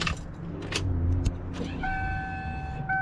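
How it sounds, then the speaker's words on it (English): Fuel pump priming in a 1984 Chevrolet Camaro Z28, a steady high electric whine that begins partway through after some brief clicks and rustling inside the car, running on to the end. "Loud ass fuel pump."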